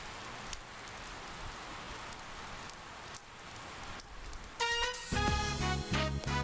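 Steady rain from the video game Persona 4 hisses on a surface for several seconds, then fades under game music that swells in near the end.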